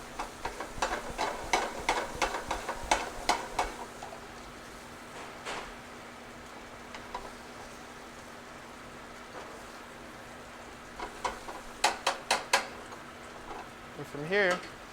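A pan of chicken and seafood jambalaya sizzles as it is deglazed, with a bright crackling hiss, bursts of scraping stirs in clusters near the start and end, and a steady low hum underneath.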